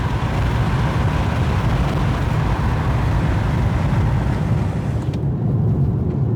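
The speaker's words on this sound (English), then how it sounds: "I don't typically drive with the windows down at 60 miles an hour." A car drives at 60 mph with the windows down, filling the cabin with a loud, constant roar of wind and road noise that holds steady throughout, with no voices.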